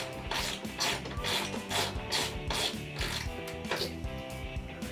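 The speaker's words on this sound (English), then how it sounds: "we're going to start cranking down our machine screws." Machine screws being cranked down by hand into a mid-sponson on a 2017 Kawasaki SX-R 1500 jet ski, a steady run of close, repeated rasping ratchet clicks and tool scraping with no talk.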